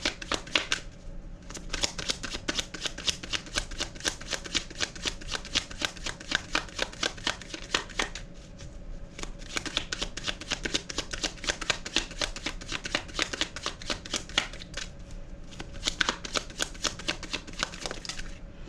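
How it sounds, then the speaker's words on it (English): Tarot cards are shuffled close up in a continuous, rapid riffling flutter with brief breaks, loud and dense throughout with no voices. "provide me one card for CARESHA, clarifying her cards"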